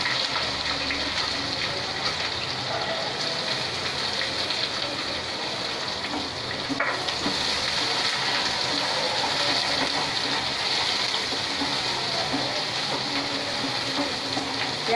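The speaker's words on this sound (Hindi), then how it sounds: "अब डालेंगे प्याज। प्याज को अच्छे से फ्राई करेंगे पहले।" Onions frying in hot oil with bay leaves and cumin in a pan for mutton masala curry, a steady loud hissing sizzle that continues evenly throughout with no talking.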